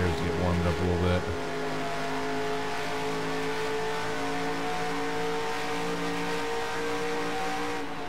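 A race car engine in the NASCAR Racing 2003 video game: a steady, buzzing drone with strong tonal harmonics, an early throttle shift, then sustained revs, with someone talking over it.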